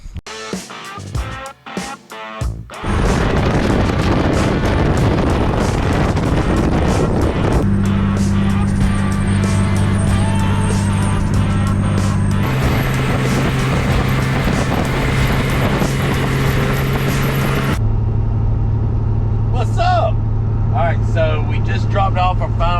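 A truck on the road, hauling its final load: a steady, loud engine and road drone rumbles throughout at close range, with the engine note shifting as it runs, and a voice speaks briefly over it near the start.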